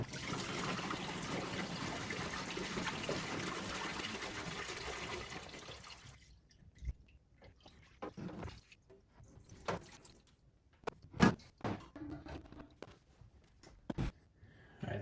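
Solvent smelling like paint thinner is poured from a 5-gallon container into a Harbor Freight 20-gallon parts washer, a close steady liquid gush for several seconds that then thins to faint trickles and scattered drips.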